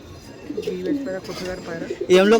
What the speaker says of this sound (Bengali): আরও একটি অসাধারণ গিরিবাজ পায়রা আমি আপনার সামনে দেখাচ্ছি